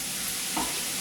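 Prawns searing in a hot pan for spaghetti, a dense, constant close-up sizzle with a faint stir partway through and no voices.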